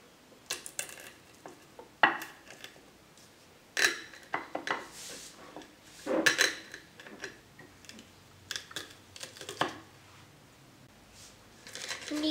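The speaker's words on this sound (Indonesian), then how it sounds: "Diulek-ulek, dihalus-halus." Spices are ground by hand in a stone mortar and pestle (ulekan) for bakso seasoning: irregular sharp knocks and scraping taps of stone on stone, fairly quiet and close.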